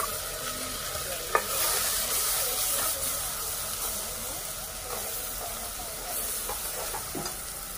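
Coconut, garlic and onion masala fries in a pan, a steady soft sizzle with occasional scrapes and clinks of stirring, close but fairly quiet.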